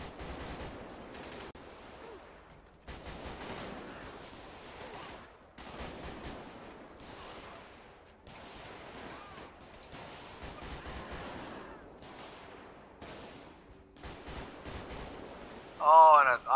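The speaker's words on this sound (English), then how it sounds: "We got gang members shooting at us." Repeated bursts of gunfire from gang members during a street shootout in GTA V with the LSPDFR police mod, irregular volleys of shots spread throughout with talk underneath and a louder burst near the end.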